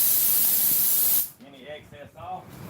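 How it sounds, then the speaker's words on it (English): A loud burst of compressed air blowing excess sand off a freshly sprayed non-skid surface hisses for about a second, then stops abruptly as a person starts talking. "I always take and blow"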